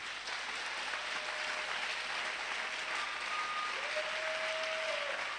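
A church congregation applauding to acclaim Jesus, a steady wash of clapping from many hands, sustained and fairly even throughout.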